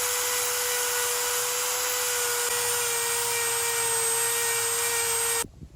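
A Dremel rotary tool sands the rough edges of a large-scale model car, a steady high-pitched whine with a constant tone that runs close and loud for over five seconds before cutting off.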